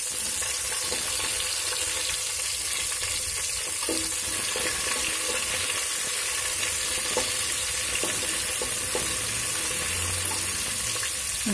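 Sliced onions fry in a pan for coconut rice, a steady broadband sizzle holding loud and even throughout with faint stirring scrapes and no talk.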